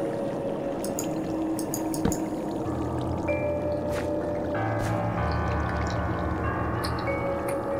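A flowing water stream in Minecraft gives a steady, continuous rushing and pouring wash throughout, with faint tonal game sounds and soft clicks layered over it.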